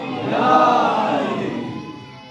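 A large crowd at a Shia majlis gathering shouts a single loud, swelling collective chant in response to a slogan call, then fades out.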